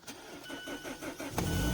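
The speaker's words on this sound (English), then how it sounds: "Oh, defeated again by the starting of the engine." A car engine cranks in a few rhythmic, straining turns before catching and firing up into a louder, steady running sound, all close and with no talking.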